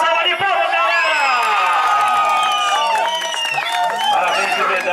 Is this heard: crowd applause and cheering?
yes